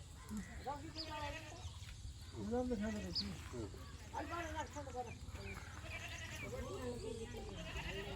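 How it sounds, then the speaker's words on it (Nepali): A goat bleats several times at close range, in wavering cries amid people talking nearby. "बाख्रा उयो आएको छ यताउति"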